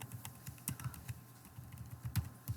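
A line of program code being typed on a computer keyboard: a close, quick run of light key clicks in an uneven rhythm, with a few heavier taps and no talking.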